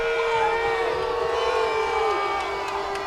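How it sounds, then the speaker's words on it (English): Steady, loud crowd roar from spectators at a high school baseball district regional playoff final, sustained noise with rising shouts and whoops over about three seconds. "And you can hear the crowd"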